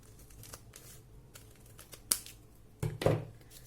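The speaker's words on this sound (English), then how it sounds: "take your scissors" Scissors snipping folded paper close up, a few quiet crisp cuts followed by a louder crunchy burst of blades closing and paper rustling.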